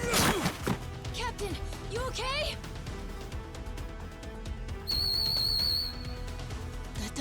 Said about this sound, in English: The old man whistle.